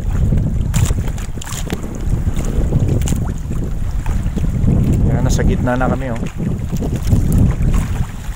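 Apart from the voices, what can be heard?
wind on a boat at sea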